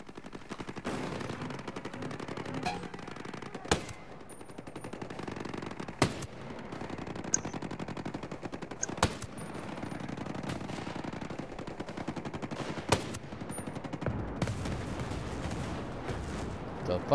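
Sustained automatic gunfire in Ghost Recon Breakpoint, rapid bursts and sharp single shots rattling throughout against a busy battle din, with several loud cracks standing out.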